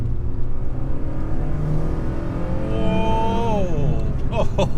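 Renault Clio Williams 2 accelerating hard in second gear, the engine note climbing steadily in pitch from inside the cabin before easing off near the end.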